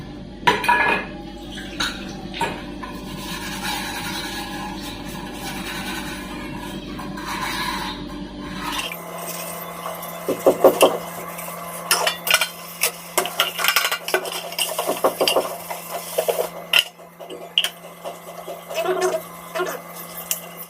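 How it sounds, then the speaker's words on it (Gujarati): Dishes and utensils being scrubbed and washed, with repeated clattering of metal pots and cutlery, scraping strokes and splashing water, close and busy throughout, a few muffled voices here and there. "આ બધા વાસણ મારે ઘસાઈ ગયા છે."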